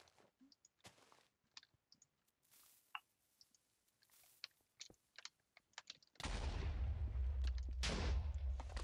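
A sudden loud TNT explosion in Minecraft erupts after scattered soft clicks, then a second blast follows, both heavy and rumbling.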